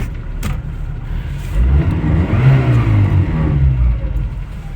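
A 2001 Mazda 626 GF diesel engine revving close up, a steady loud rumble that rises in pitch as the throttle opens and then settles back.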